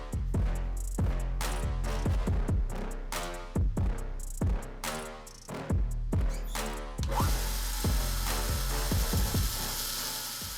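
A belt grinder works bevels on a mosaic-pattern damascus knife blade, a steady loud machine drone broken by repeated rhythmic bursts as the blade is pressed and lifted, ending in a sustained harsh grinding hiss.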